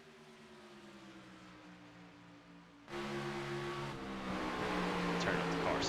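Race car engines in a SCARS Busch Series racing game at Homestead, several steady droning engine tones that jump louder partway through and keep humming at a sustained pitch.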